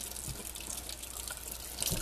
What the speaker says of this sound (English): There's our running water